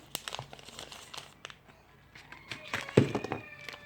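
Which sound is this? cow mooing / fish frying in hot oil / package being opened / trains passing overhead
package being opened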